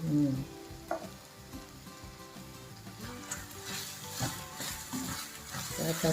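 Curry leaves sizzling and crackling in hot oil in a pan while cooking ginger curry, a lively close sizzle with occasional stirring knocks and no talk.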